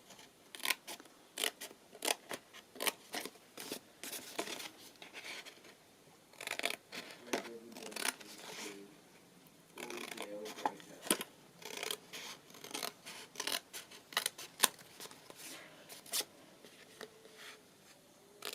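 Scissors snip through paper while cutting out pieces for a handmade cottage journal, producing quick, close, crisp cuts in irregular bursts against a quiet room.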